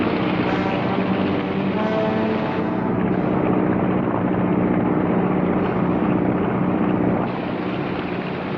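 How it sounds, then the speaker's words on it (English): A Coast Guard helicopter approaches as a loud, steady, broadband rotor and engine roar that holds throughout with no talking, easing slightly toward the end. "Tell the Coast Guard to start the helicopter in."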